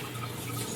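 Tap water runs steadily into a container being filled, a soft continuous splashing stream close by with no voices.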